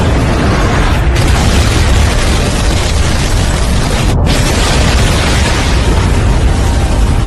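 Obito's Tailed Beast Bomb exploding in the Naruto Shippuden anime. A loud, dense roaring blast runs continuously for about seven seconds with no voices.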